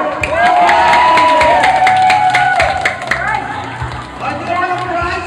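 A crowd cheers loudly for a pageant contestant, with shouts, whistles and rapid clapping overlapping close and dense, while a voice calls out above the din.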